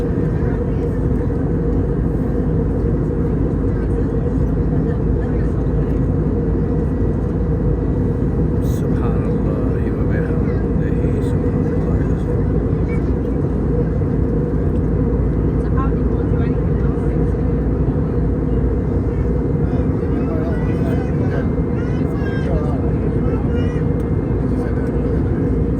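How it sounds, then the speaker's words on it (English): An airplane in flight on the Gilgit to Skardu route produces a loud, steady engine and cabin drone that fills the whole stretch without letup, with faint voices now and then beneath it. "Flying through the clouds."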